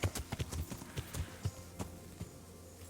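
Horse hooves clip-clop in the medieval game Kingdom Come: Deliverance, a quick uneven run of sharp hoof strikes, faint and fairly close, with no talking over them.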